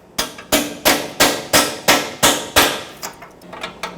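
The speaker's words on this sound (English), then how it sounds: "so I'm going to hammer a 13mm on there." Sharp metallic hammer blows drive a 13mm socket onto a corroded bolt on a 2009-2010 Ford F-150 catalytic converter pipe, about eight strong strikes in a steady rhythm followed by a few lighter taps, close and loud.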